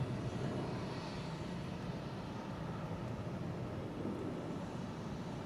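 A Boeing 717 airliner takes off at Atlanta airport, a steady, broad jet-engine roar that holds level throughout, distant and unbroken by talk.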